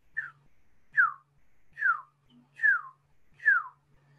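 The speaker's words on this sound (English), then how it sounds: "it almost sounds like a bird whistle." Bat echolocation calls slowed down until they resemble a bird's whistle: five short, evenly spaced descending chirps at moderate volume, each sliding downward in pitch, with a faint steady low hum beneath and no voices.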